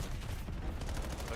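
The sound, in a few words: gunfire in Call of Duty video game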